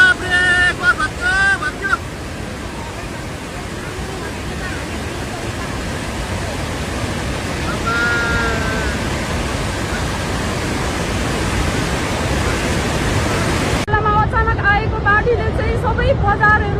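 Floodwater of a swollen river in Nepal roars without a break, a loud broadband rush of surging water that swells slightly toward the end and carries faint voices underneath.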